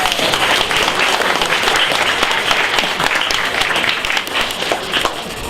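Dense, sustained applause from a hackathon crowd cheering a student team, a steady roar of many hands clapping at close range with no pause.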